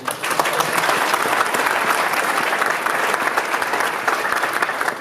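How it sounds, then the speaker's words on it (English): Dense, steady audience applause fills the room at a company gathering honoring a feature coded in 48 hours, loud and continuous throughout with no break. "Quick round of applause for John."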